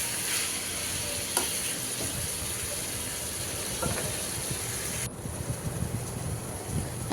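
Dried fish with crushed garlic and onion frying in a pan, a continuous soft sizzle with occasional clicks and scrapes of stirring, the frying hiss dropping slightly partway through.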